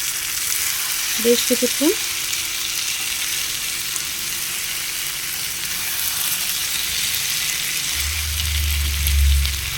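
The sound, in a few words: gently stirring eggs in frying masala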